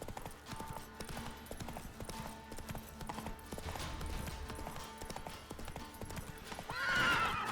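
A horse's hooves clip-clop steadily across ground in the video game The Witcher 3: Wild Hunt, and a whinny rises near the end over a soft game ambience.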